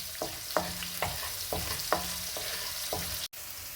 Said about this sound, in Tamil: இப்போ கொஞ்சம் இது பச்சை வாசனை போகிற வரைக்கும் நம்ம வறுத்து வதக்கிக்கலாம்.